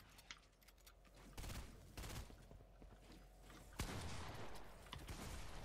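Video-game gunfire crackles in bursts of rapid shots, several volleys separated by short pauses, fairly quiet and heard on its own without speech.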